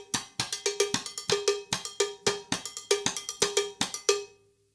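A 2-3 son clave pattern played on the right cymbal of a drum kit in a mambo, with sharp bright strokes over a steady groove of repeated hits, played alone.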